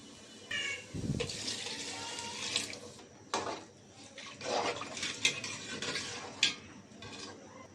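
Water poured into a pan of rice fried in ghee with green chilies and salt, arriving as several splashing, gushing bursts with light clinks of the pan between pours.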